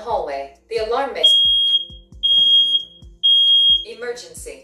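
A Nest Protect (2nd Gen.) smoke alarm emits loud, piercing high-pitched beeps in a repeating pattern, alternating with a synthetic voice announcing smoke in the hallway between the tones.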